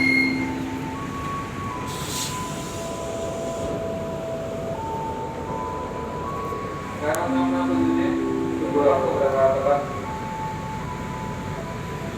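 KRL commuter train departing Palur station on the Solo–Yogyakarta line, a steady rail rumble with tonal hums and a brief horn-like tone near the end, heard with people talking over it.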